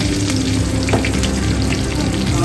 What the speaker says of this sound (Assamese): তেলত মই জিৰা কেইটামান দি লৈছোঁ নৰসিংহ পাত কেইখিলামান